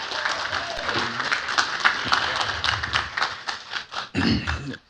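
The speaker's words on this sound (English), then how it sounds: "Give these guys a round of applause." Scattered clapping from a city council meeting audience, a modest round of applause with uneven individual claps and some murmuring voices, fading out near the end.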